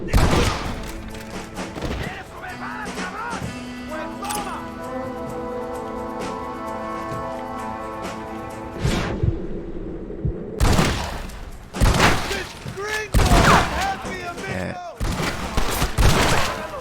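Gunfire in Red Dead Redemption: a loud opening volley, then a sustained musical stretch, followed by several sharp, close shots in bursts toward the end.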